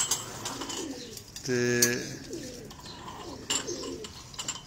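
Pigeons coo at a rooftop loft, one clear harmonic coo standing out amid lower murmuring birds, with someone talking nearby.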